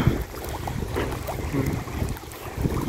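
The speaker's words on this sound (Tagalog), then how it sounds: "kasi mahangin dito sa isla" Steady wind buffeting outdoors on an island shore in Croatia, with low rumbling gusts and a faint wash of water, continuous and fairly loud throughout.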